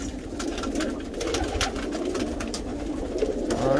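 Tippler pigeons coo steadily at close range, a continuous murmuring flock sound with soft overlapping calls and no talking.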